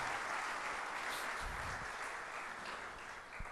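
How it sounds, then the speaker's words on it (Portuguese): A church congregation applauds steadily throughout, a continuous wash of clapping heard from a distance at low level with no talk over it. "Vamos aplaudir o Senhor e vamos sentar."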